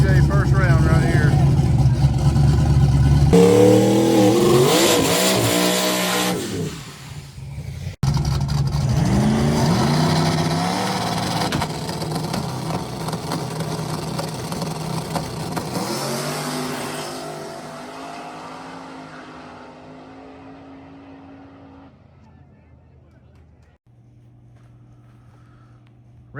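Extreme Street no-prep drag racing cars at Natural Bridge, a loud close engine roar with revving and a sudden surge partway through, then sweeping off into the distance and fading away under a low rumble.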